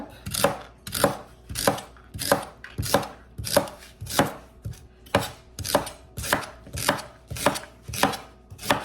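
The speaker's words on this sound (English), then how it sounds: "Just slice it up." A knife slices rhubarb stalks into 1-inch pieces on a cutting board, about fifteen crisp, evenly spaced chops at a steady rhythm, close and clear with no talking.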